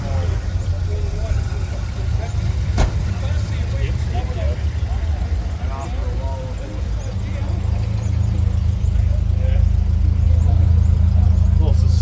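A Holden Gemini TX (Isuzu) runs at a slightly high idle and a little rich, with a single muffler and a small hot dog resonator. The engine gives a steady, close, low rumbling drone that stays even throughout.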